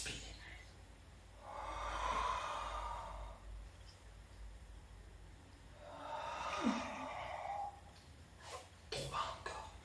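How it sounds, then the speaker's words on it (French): Deep breaths drawn in and let out during a Pilates exercise, two long airy breath swells close to the mic, followed by a few brief soft knocks near the end. "Inspire."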